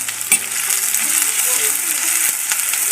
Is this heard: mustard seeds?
yes